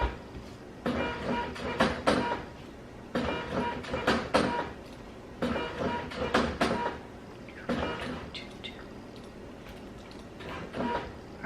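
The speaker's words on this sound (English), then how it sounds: "Printer is so loud." An office printer printing in loud repeated bursts of mechanical whirring and clacking, each pass lasting about two seconds with short pauses between, close by and with no talk over it.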